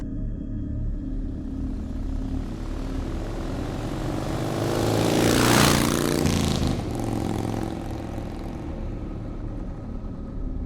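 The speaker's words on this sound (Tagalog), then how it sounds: "Ang tricycle ay matanda na kung kaya maingay." An old motor tricycle's noisy engine rattles and drones, swelling louder as it passes close by around the middle, then fading again.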